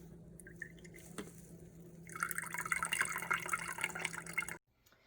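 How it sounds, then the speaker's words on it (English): Celery juice made in a blender drips and trickles as a nut milk bag is squeezed over a colander, a soft splashy stream building for a few seconds close by, then stopping abruptly. "we're gonna press all the liquid out of the nut milk bag"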